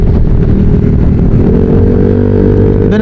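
A Yamaha Mio motor scooter engine revs continuously while being ridden on a road trip around Kaybiang and Nasugbu, a loud steady drone with rising pitch toward the end, close up with no talking.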